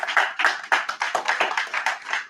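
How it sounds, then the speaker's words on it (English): A small audience at a board of education meeting claps briefly, a short burst of scattered, fairly close hand claps fading after about two seconds. "So one more round of applause for Sawyer."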